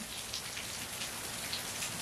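Steady rain falls in Florida, a dense, even hiss of drops hitting surfaces that continues without pause from start to finish, with no voices.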